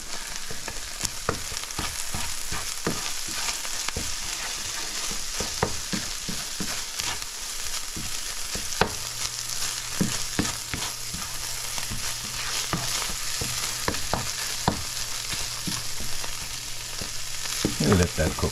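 Corned beef with ketchup fries in a pan, giving a loud, continuous close sizzle with occasional scraping stirs throughout and no speech.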